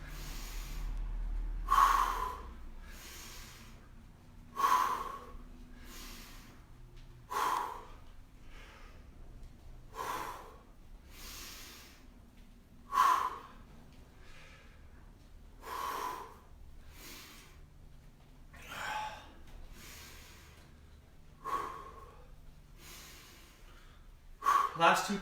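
Heavy exercise breathing during a physical therapy workout: forceful exhales and sharp inhales repeat in a steady rhythm roughly every few seconds, close and breathy, with no talking between them.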